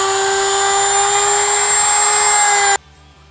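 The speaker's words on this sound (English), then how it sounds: "I'm going to use a Dremel with a sanding wheel to do this" A Dremel rotary tool with a sanding wheel whines steadily at a high pitch while sanding plastic interior trim of a RAM 1500 pickup, then cuts off abruptly near the end, leaving a faint hum.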